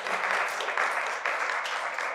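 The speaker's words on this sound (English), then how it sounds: "Okay, I want y'all to give these speakers a round of applause" An audience gives a sustained round of applause for panel speakers at an environmental justice gathering along the Mississippi River. The clapping is dense and steady and stays fairly close throughout.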